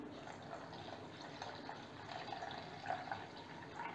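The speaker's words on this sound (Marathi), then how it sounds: "आता टाकायचे पाणी." Water is poured into a sour-sweet amti made with tamarind pulp, jaggery and salt, giving a faint, steady trickle and splash close by, with a few brief drips toward the end and no talking.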